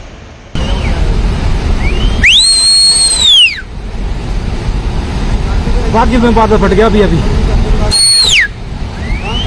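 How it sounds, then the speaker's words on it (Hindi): During a cloudburst flood in Rampur, Himachal Pradesh, shrill whistles blast out to alert people, two long rising-and-falling whistle calls plus a shorter one over a rumbling background, with a voice speaking throughout. "लोग चिल्लाने लगे, सीटियां बजाकर लोगों को अलर्ट करने लगे।"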